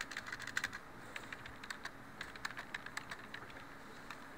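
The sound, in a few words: typing on a computer keyboard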